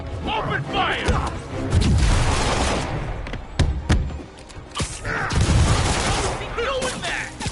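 Gunfire from enemies in the video game Marvel's Spider-Man, a scattered fusillade of shots, thuds and crashes mixed with game voices and music, moderately loud with busy action throughout.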